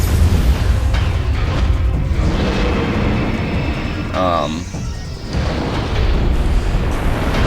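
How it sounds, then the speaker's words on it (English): Morph ball bombs explode during the Mogenar boss fight on Bryyo in Metroid Prime 3, heavy rumbling booms under a continuous game soundscape, with a rising electronic whine partway through and someone talking over it. "you want to turn into a ball, and you have to drop bombs near his feet to blow off his magic shoes."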